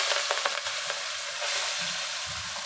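Ivy gourd pieces fry in oil while being stirred, a constant close sizzle with a few sharper scraping clicks early on.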